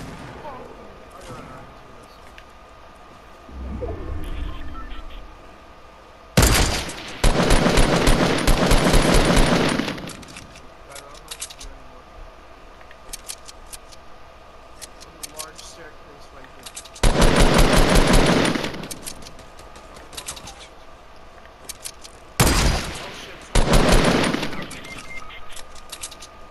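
Bursts of rapid automatic gunfire from the video game Fortnite, in several loud sustained volleys with quieter gaps between them, while a player talks and shouts over the action.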